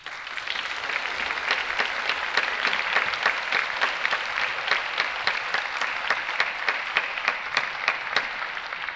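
A large audience at a university centennial celebration gives a sustained round of applause for honored long-serving staff, with dense, even clapping that holds steady from start to finish and no talking.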